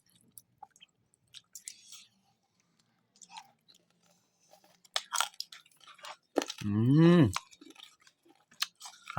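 Crispy pork skin crunches in a few close, sharp bursts of chewing, broken by short pauses, with a brief voiced sound near the end.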